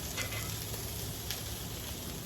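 Bacon sizzling over a live wood fire on a Santa Maria grill, a steady close crackle and hiss running unbroken with a few brighter pops.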